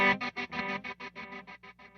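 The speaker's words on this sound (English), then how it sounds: "It's a tremolo on a reverb" A Meris reverb guitar pedal with tremolo applied, producing a sustained chord chopped into rapid, even pulses that gradually slow and fade, with no other sounds.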